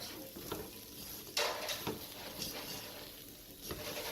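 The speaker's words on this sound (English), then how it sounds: "you're gonna stir that around till the vegetables are cooked a little bit" Chopped vegetables with zucchini stirred in a pot for a hidden-veggie vegan chili, soft scraping strokes over a faint, steady cooking hiss, quiet and close.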